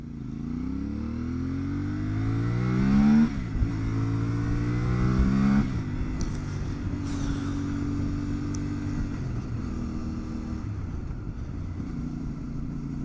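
A CF Moto 450MT motorcycle engine revs up, its pitch rising in a couple of strong pulls before settling back to a steady idle rumble.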